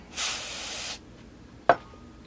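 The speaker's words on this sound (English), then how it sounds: "First I'm going to use some brake cleaner" Brake cleaner sprays from an aerosol can onto the crankcase surfaces of a Husqvarna 372 chainsaw in one short, close hiss lasting under a second, followed by a single sharp click.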